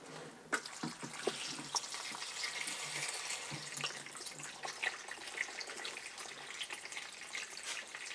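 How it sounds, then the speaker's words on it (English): Water is poured into trays under plant pots to bottom-water allium seedlings, a soft continuous trickle and splash close by, with a few small knocks of containers and no talking. "I'm going to take some water and bottom water."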